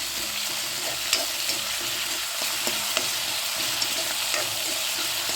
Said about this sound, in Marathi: आता आपण सगळं परतून घेऊया